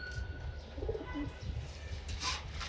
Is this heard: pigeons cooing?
yes